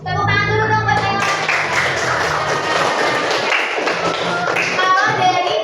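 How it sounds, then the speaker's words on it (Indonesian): Children in a classroom clap their hands in a dense burst of overlapping claps and taps lasting several seconds, close and loud, with a few voices mixed in. "Tepuk tangan dulu dong buat Naila."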